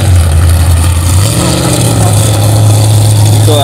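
A heavy tractor engine drones steadily and loudly, its pitch dipping and then rising as it labors pulling a car from mud at a demolition derby in Slater, Missouri, with faint voices in the background.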